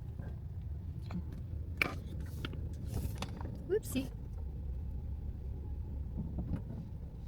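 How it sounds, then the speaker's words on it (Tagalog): Steady low rumble of a car's engine and road noise from inside the vehicle while driving home from a hospital in Indiana, with occasional clicks and brief speech over the continuous drone. "Ang ingay ng sasakyan ko."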